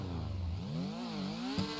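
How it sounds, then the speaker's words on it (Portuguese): A small motorcycle engine in GTA V, a CB1000 turbo, revs with a rising and falling buzzy drone that ends in a brief pop, close and steady. "Ó os pipocos da motinha do Chimpinha"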